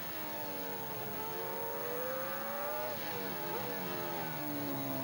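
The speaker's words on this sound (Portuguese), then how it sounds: "Você está ouvindo aí o motor Mercedes da McLaren. Ali atrás tem o motor BMW da Williams." Formula 1 engines screaming at high revs: a McLaren Mercedes car up close with a Williams BMW car trailing behind, at the 2002 United States Grand Prix, steady and loud with rising and dipping engine notes as gears shift.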